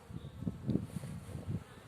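Bees buzz around blooming dandelions in a spring meadow, a faint, low, wavering drone with a few slightly louder passes, quiet and somewhat distant.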